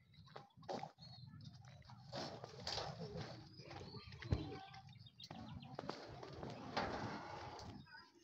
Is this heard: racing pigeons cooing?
yes